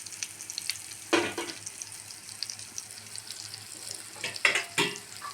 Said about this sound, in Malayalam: കടുകിടാം.